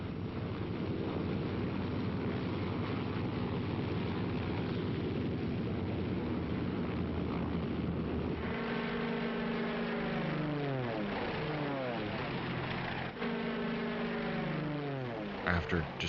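P-47 Thunderbolt fighter planes climbing, a steady loud propeller engine drone that shifts midway into rising and falling pitch sweeps as the aircraft pass and climb, continuous throughout.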